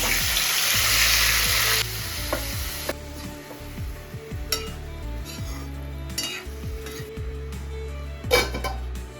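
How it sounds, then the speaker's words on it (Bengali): Cauliflower frying in a little oil in a wok gives a loud burst of sizzling at first, then a busy spattering crackle with scrapes and clinks of utensils against the pan, close and continuous. "কড়াইতে একটু তেল গরম করছি"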